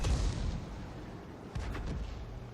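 Artillery gun fire from the 105 leFH18B2 self-propelled gun in the tank game World of Tanks, with a loud low boom at the start and another heavy blast about a second and a half later over a steady rumbling battle background.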